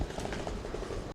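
A Tokyo metro train passing at night near Minami Senju station, a close rolling rumble with rhythmic wheel clatter that cuts off abruptly.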